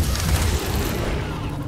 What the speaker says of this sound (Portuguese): Deu uma explosão.